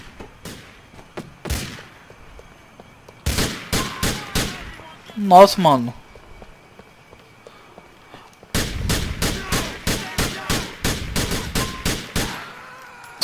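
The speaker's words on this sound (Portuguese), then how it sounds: "Vamos ver essa troca de tiro aí." Bursts of gunfire in the video game GTA 4 during a police shootout, sharp rapid volleys in clusters separated by quiet gaps, loud and close; a man briefly exclaims between the volleys.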